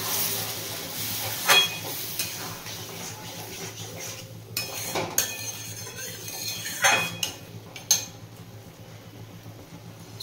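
A spoon clinks and scrapes against a pot while curry is stirred after the water from boiled peas is added, with scattered metallic knocks over a soft steamy hiss.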